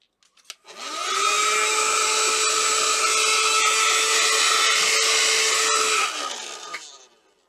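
A small, inexpensive handheld mini vacuum cleaner runs steadily with a whiny motor hum for about five seconds, starting and winding down at either end, loud and close with no talking.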